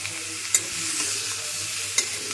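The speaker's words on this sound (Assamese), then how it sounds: "মই এতিয়া এড কৰিম কাটি থোৱা পিঁয়াজখিনি ইয়াতে দি দিম তাৰপিছতে মই শুকান জলকীয়াকেইটাও দি দিম" Chopped onions and dried chillies fry with a steady, close sizzle in a pan while being stirred, with two sharp scrapes or clinks of the spoon against the pan. No one speaks.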